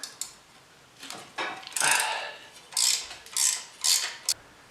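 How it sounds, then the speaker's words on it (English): A ratcheting wrench working bolts on a Jeep CJ7 engine during power steering pump removal, giving bursts of quick clicking ratchet strokes, close and crisp, with short pauses between them. "I finally went out and bought myself a standard set of these ratcheting wrenches."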